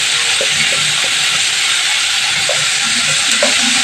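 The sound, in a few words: spice paste with turmeric frying in pan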